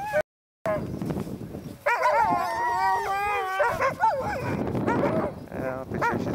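Sled dogs being harnessed on a ski and dog-sled trek to the North Pole howl and bark in wavering, overlapping cries, close and loud, with a person speaking briefly among them.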